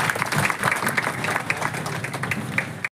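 Audience applause at a public ceremony marking the start of cement road works, steady dense clapping that carries on for about three seconds before stopping abruptly.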